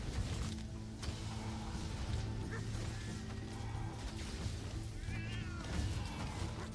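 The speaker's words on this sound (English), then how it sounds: "The cats." Meowing cats in the video game Death Must Die, heard over a dense, constant wash of combat effects, thuds and music, with several cries rising out of the busy mix.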